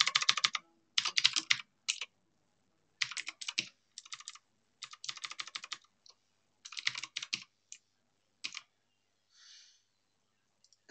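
Bursts of rapid clicking keystrokes on a computer keyboard while entering URLs for ASP.NET Razor Pages routing, in several distinct runs separated by short pauses, close and fairly quiet with no talking.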